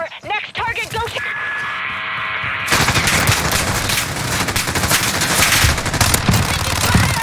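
Heavy sustained gunfire in the Call of Duty Modern Warfare Spec Ops co-op mission Operation Headhunter, loud and continuous automatic bursts that follow a brief radio chatter exchange and carry through to the end.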